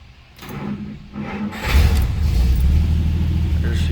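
A Plymouth Special Deluxe engine cranks and fires up, then settles into a loud, steady low rumble with a brief rev, heard close up after some quieter shuffling sounds.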